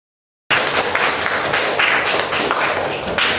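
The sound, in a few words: class applauding a student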